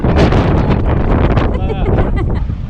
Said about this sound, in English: It's getting very windy, big gusts, but it's almost pushing us.